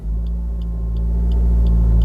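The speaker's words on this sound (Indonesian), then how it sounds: "Angkat kopling perlahan sampai getar, tambah gasnya sampai meraung." A car's engine rumbles steadily and swells slightly as it revs while pulling away from a stop on an uphill slope, with a faint regular ticking like a hazard or turn indicator running alongside.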